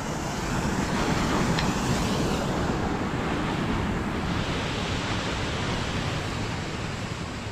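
Water pours from an icy opening in a frozen waterfall in Alaska, making a steady, dense rushing roar that holds constant throughout with no voices.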